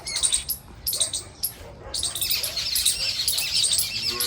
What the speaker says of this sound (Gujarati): જો બધા પક્ષીઓ કિલ્લોલ કરી રહ્યા